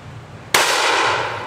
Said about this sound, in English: Okay, that's the power of the guns.